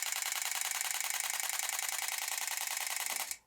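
Canon R50 firing a continuous burst at 12 frames per second with its hybrid electronic first-curtain shutter, a rapid, even mechanical clicking rattle, close and steady for about three seconds before stopping abruptly.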